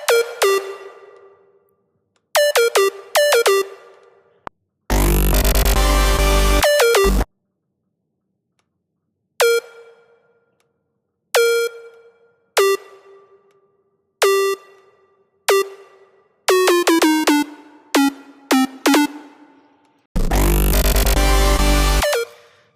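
Dubstep synth chords drenched in reverb: bright, plucky stabs in short rhythmic bursts with ringing tails, broken up by two sustained, full-range distorted blasts, loud and alone with no voices.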